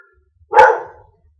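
A single dog gives one sharp, close bark that trails off quickly, clear against an otherwise quiet room.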